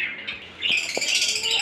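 Pet birds calling in a home aviary, with a few sharp squawks and chirps over a steady high chatter, fairly close.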